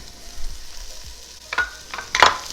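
Precooked meat and vegetables for brisket chili verde sauté in a Ninja Foodi, a soft sizzle under scattered stirring scrapes and clatters of a utensil against the pot, close with no talking.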